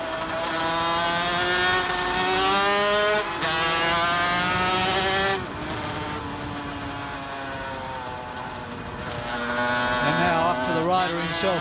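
Racing sidecar motorcycle engines howl loud and close at Oran Park during the 1989 Australian Sidecar Championship, pitch rising and falling through gear changes, with a race commentator talking over them throughout.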